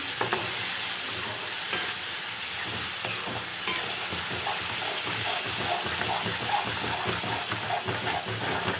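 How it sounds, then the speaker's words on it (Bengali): Spice paste with cinnamon frying in a pan while being stirred, a continuous sizzle with irregular scraping and clinking of the spoon, close and steady, no talking. "মশলাটা একটু কষিয়ে নেব আর এটা দিয়ে দিয়েছি একটু দারচিনি"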